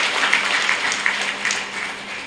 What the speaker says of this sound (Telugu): ఒకవేళ ఇది యాక్సెప్ట్ చేస్తే నాకు గట్టిగా చప్పట్లు కొట్టాలి.